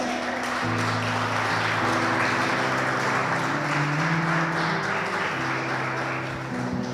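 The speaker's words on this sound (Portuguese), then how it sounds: "Você pode dar um aplauso para o Senhor por isso?" A church congregation applauds for the Lord during a Portuguese-language sermon, a steady broad wash of clapping that runs the whole time over sustained organ or keyboard chords.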